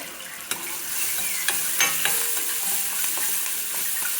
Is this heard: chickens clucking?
no